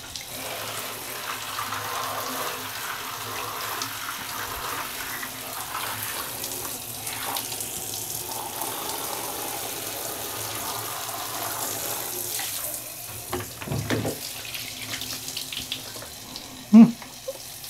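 Steady tap water runs over a computer keyboard being rinsed under a faucet, a continuous gushing hiss with occasional shifts and splashes as the keyboard moves, ending with a brief knock.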